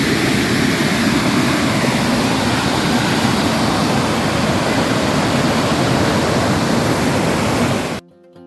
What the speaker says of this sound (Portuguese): Tem uma queda de água maior do que a primeira.